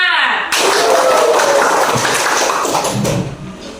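A classroom of students claps a rhythmic group cheer, loud and close, as a burst of many hands that runs for about three seconds before fading.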